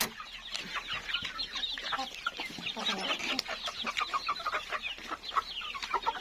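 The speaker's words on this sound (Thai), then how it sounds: "หลองให้อาหารไก่เสร็จครับ" Many Burmese gamecocks cluck and chatter together nearby at an evening garden feeding, a busy, continuous flock sound with scattered louder clucks.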